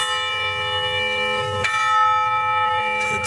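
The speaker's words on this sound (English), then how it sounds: "Sometimes we hit this bell so many goddamn times." A large bell struck once and left ringing, a loud sustained metallic tone with long decaying overtones, followed by a couple of lighter taps on the ringing bell and no talking.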